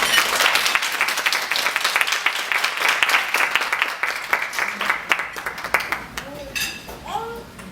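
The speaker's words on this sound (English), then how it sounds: "You all please give April Tucker another round of applause." Audience applause for April Tucker, mother of Trey Songz, after her talk to teen mothers: dense, loud clapping that thins out toward the end, where a few voices and a child's chatter come through.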